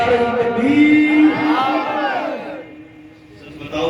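A crowd at a religious gathering shouts back in unison in response to the Naara-e-Takbeer call, a loud, sustained massed chant of many voices that swells and then tapers off, heard close and reverberant.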